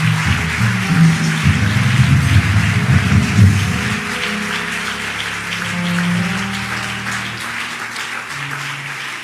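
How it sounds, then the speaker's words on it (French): A church congregation at a marriage teaching event breaks into sustained, dense applause and cheering, loud and continuous like rain, with low murmuring voices and acclamation mixed underneath. "J'aimerais que nous offrons une offrande d'acclamation pour le révérend Raoul Wafo et sa femme."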